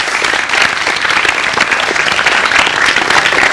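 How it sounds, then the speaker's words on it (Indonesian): Studio audience applauding at an Indonesian talk show about height, a dense, steady wash of clapping that fills the whole stretch without a break. "Terima kasih bagi aplaus sekalian untuk Anda semua."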